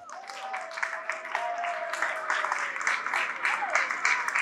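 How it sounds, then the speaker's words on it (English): Schoolchildren in a classroom at an oral health education session clap for themselves, steady mixed applause building over several seconds, with children's voices and chatter audible beneath it. "Clap for yourselves."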